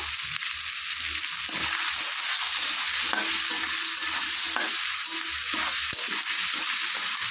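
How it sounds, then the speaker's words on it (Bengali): Potatoes and peas frying in a wok with salt and a little turmeric, a steady hiss of sizzling oil with occasional stirring scrapes and clinks, close and continuous. "আলুটাকে একটু ভাজা ভাজা করে নেব"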